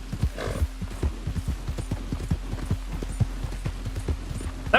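Horse hooves clip-clop in a steady, even trot in the Red Dead Redemption II video game, close and clear over a low constant hum.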